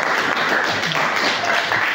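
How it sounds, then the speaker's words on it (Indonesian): Applause at a game design workshop for a young presenter named Fakir, a short burst of steady group clapping. "Kasih tepuk tangan buat Fakir."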